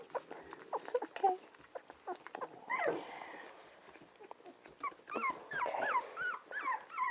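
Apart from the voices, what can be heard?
puppy whimpering while being handled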